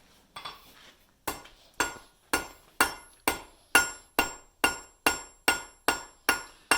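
A blacksmith hammers hot metal on an anvil, drawing it out to a point: a steady run of about twelve sharp, ringing blows close by, each decaying quickly, following a brief scrape and pause.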